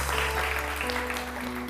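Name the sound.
studio audience applause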